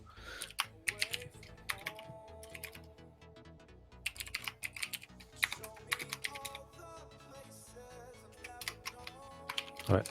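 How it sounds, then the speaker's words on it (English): Steady bursts of computer keyboard typing, close and crisp, in uneven clusters over a low background music bed, with no speech. "Don't know why I can't type in this keyboard."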